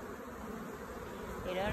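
Honeybees in a six-frame hive feeding on pollen protein feed make a close, steady buzzing hum, growing slightly louder near the end.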